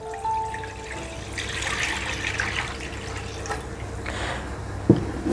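Coconut milk, 1200 ml pressed from half a large coconut, pours into a pot for boiling, a steady liquid splash running throughout at moderate level, with a brief clink near the end.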